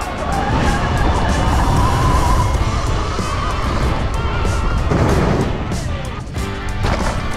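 A freestyle motocross motorbike loops around a bend to build speed, its engine roaring loud and close throughout, rising and falling with revs and tyre noise.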